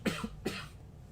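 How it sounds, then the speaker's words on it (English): A person with a summer cold coughs twice, close and alone: a sharp first cough, then a second about half a second later, with a faint throat sound between. "I got summer cough"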